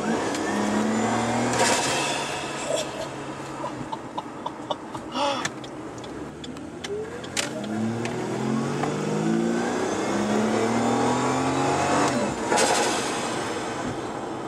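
A Ford Falcon XR6 Turbo engine with a cold air intake revs and accelerates through several gears, rising and falling pitch sweeps, close and loud, with no talking.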